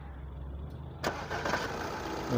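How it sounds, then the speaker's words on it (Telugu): A 2015 Audi A6 35 TDI diesel engine cranks and catches about a second in, then settles into a steady low idle with a slight rev at the end. "బండి కూడా స్టార్ట్ చేసి చూసుకుందాము"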